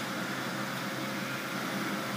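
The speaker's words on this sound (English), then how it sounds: "What you hear is the fan noise." A G-TEC TB-125 torch booster runs with its cooling fan on, giving a steady, fairly quiet broadband whir with no breaks, alone for the whole stretch.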